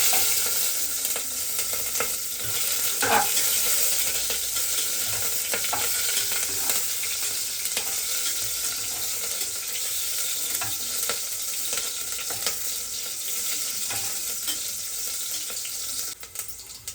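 Onion fries in hot oil inside a pressure cooker, giving a soft, steady sizzle and crackle with occasional stirring scrapes, faint and continuous throughout.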